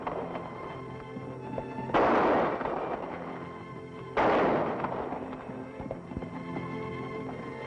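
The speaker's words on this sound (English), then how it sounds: "That's very good shooting, Pancho." Two loud gunshots ring out in a 1950s western scene, the blasts about two seconds apart, each with a broad echoing tail over a quiet background.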